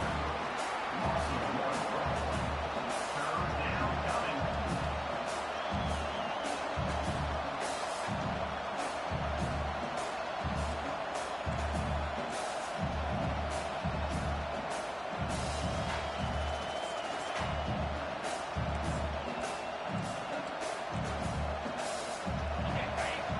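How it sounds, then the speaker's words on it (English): Stadium crowd in an NCAA football video game, a steady roar of fans swelling on third down, with a commentator talking over it throughout. "Decibels rising as the crowd gets behind this defense on 3rd down"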